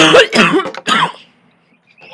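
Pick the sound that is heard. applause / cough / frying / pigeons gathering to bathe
cough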